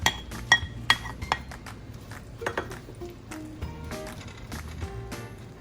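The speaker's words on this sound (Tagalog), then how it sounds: "So igigisa lang natin ng maganda itong onion natin." Chopped onion sizzling as it hits hot cooking oil in a pan, with clinks and knocks of a utensil against the pan in the first seconds, then a steady low frying hiss that continues.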